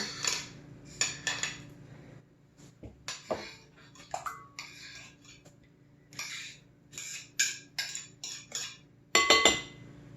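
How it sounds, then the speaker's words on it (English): Mixing bowls and utensils handled in a home kitchen while baking banana bread and cookies: irregular clinks, knocks and scrapes of metal and bowls, close and moderately loud, with short pauses between bursts. "Grab my bowls"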